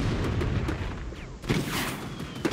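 Cannons fire in the World War Armies video game, with booming blasts rolling over a dense, continuous din of battle noise throughout.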